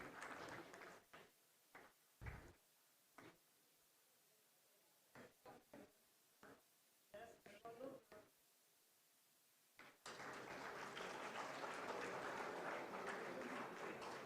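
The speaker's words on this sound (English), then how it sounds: "Please keep the claps on because we have a lot of people coming in collecting their checks." Audience applause at a startup summit as recipients come up to collect their checks: scattered clusters of claps and thumps at first, then steady, dense clapping filling the room for the last few seconds.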